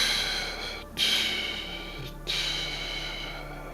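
Two quick, sharp breaths are forced out through the nose during a guided morning energy session, each a short breathy burst over a faint steady hum.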